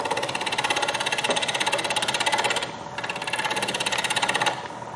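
A wood lathe roughs out a turned display base, giving a continuous rapid, rhythmic chattering roar of the gouge on spinning wood, close and loud with a brief dip midway.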